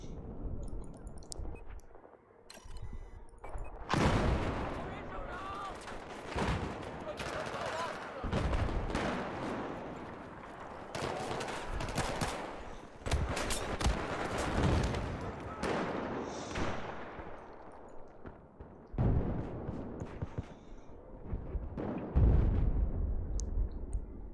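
Gunfire in Battlefield 4, with rapid shots, bursts and booms cracking repeatedly across a busy firefight, loud and close, while a player talks over the action.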